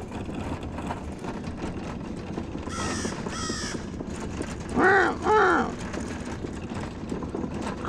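A crow caws outdoors, first two raspy calls partly masked, then two clearer harsh caws a short distance away over steady traffic-like background noise.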